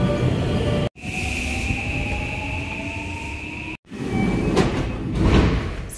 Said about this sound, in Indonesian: Itu keretanya baru sampai.